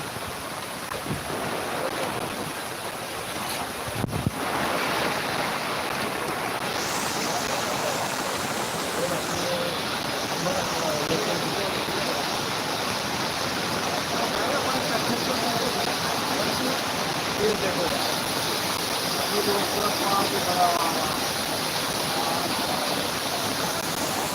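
Heavy rain and floodwater on a road in Sanpada, Navi Mumbai: a dense, loud, continuous roar of downpour and rushing water throughout, with faint voices at times underneath.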